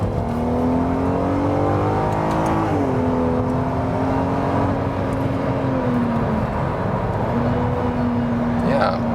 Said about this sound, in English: It's at the same time really a rather harmonious acceleration from the naturally aspirated engine.